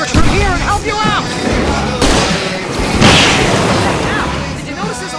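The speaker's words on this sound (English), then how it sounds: "I can set off more of the fireworks from here and help you out!" Fireworks go off in Alan Wake Remastered on PS5 as repeated booming bursts, loud and close, mixed with game music and character voices talking over them.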